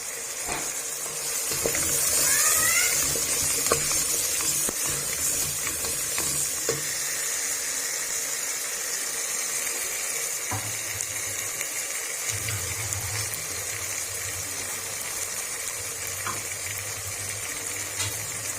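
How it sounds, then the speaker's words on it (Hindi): Potatoes and peas sizzle in a pan with cumin, a soft, steady frying hiss, a few light clinks of a utensil, and a low background hum. "मटर हमने भून लिए हैं। अब डाल देंगे आलू इसके अंदर।"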